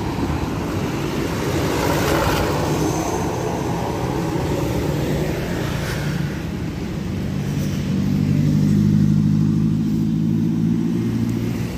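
A Harley motorcycle engine revving nearby at a truck stop, a deep rumbling drone that rises in a couple of swells, growing louder and richer toward the end, with no talk over it.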